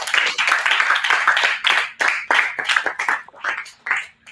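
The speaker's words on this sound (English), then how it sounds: "Can we just rise up and clap for Dr. Ojo?" An audience at an international youth summit stands and claps for Dr. Ojo, the clapping loose and uneven, swelling in bursts and tapering off into scattered claps near the end, fairly close and without talk.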